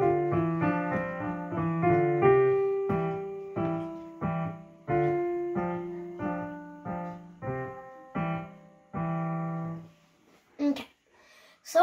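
Piano plays the second line of a beginner piece, a steady run of separate struck notes with clear bass-clef tones under the melody, ringing at moderate volume before a few faint rustles at the end.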